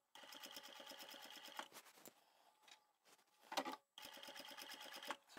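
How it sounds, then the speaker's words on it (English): A sewing machine top-stitches a fabric glasses case in rapid, close bursts of stitching, stopping briefly between runs before starting up again. "We're going to now top stitch from this corner here all the way down."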